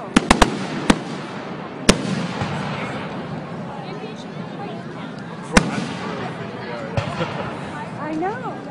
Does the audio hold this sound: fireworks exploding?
yes